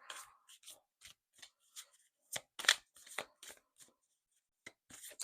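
Tarot cards are shuffled in quick, crisp bursts of riffling and snapping, close up, with short pauses between flurries.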